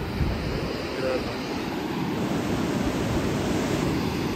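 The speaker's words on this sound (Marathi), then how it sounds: "जेव्हा लाट मोठी येते ना जरा मोठी आली" Continuous rushing surf of waves washing onto Bhatye beach, Ratnagiri, mixed with wind buffeting the microphone, steady and fairly close.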